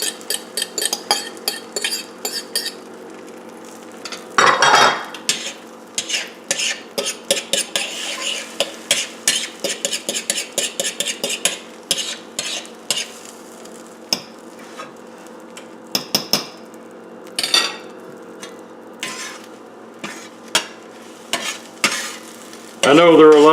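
Eggs being scrambled in a frying pan on a skillet: a rapid series of sharp metallic scrapes and taps of a utensil against the pan over a faint, steady sizzle, with no talking.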